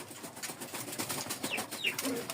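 Domestic pigeons in a home loft cooing softly at close range, a low throaty coo rising near the end over a steady rustling background with faint chirps.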